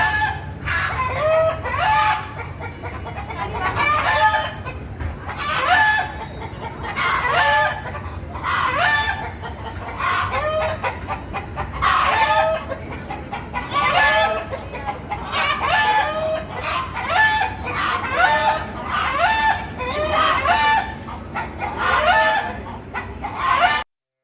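Chickens cluck and roosters crow in the grounds of Kapaleeswarar temple in Tamil Nadu. Loud, close, repeated calls come in a steady rhythm throughout, with no talking.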